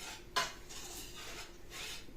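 A hand whisk clinks against a metal pot while stirring milk, a sharp metallic knock followed by soft repeated scraping strokes, faint and close, with no talking.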